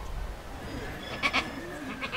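A goat bleats at a soccer game, with two short close bleats in the middle of the clip over low crowd and ambient noise, followed by fainter bleat-like calls.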